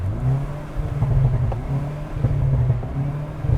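A 2022 Hyundai Veloster N with a dual-clutch transmission revs in neutral, its engine droning steadily and loudly up close with a deep low rumble that swells and dips slightly across a few seconds, no talking.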